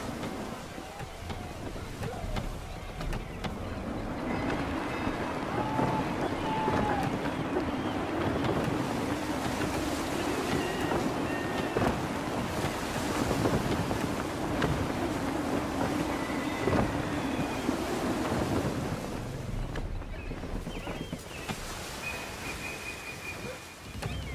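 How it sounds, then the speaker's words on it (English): Gusty wind and ocean waves around a sailing ship in Assassin's Creed 3, a steady loud rush of wind and surf with creaking hull and rigging, with a voice speaking over it. "Gusty winds can be difficult to manage."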